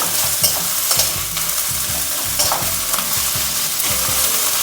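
Potato paratha spice filling stirred and fried over low heat in a pan with little oil, a steady sizzle broken by repeated scraping strokes of the spoon, close and fairly loud.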